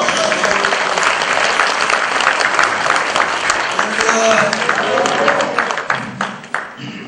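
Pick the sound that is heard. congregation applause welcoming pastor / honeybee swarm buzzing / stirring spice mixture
congregation applause welcoming pastor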